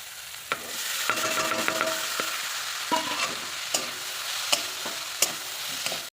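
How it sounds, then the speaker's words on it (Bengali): Cut potatoes fry in a pan with a steady sizzle, broken by sharp clinks and scrapes of a spatula stirring at irregular intervals, close up and with no voices. "এখন আলু ভাজতে চলে এসেছি, আলুগুলোকে কেটে নিয়েছি।"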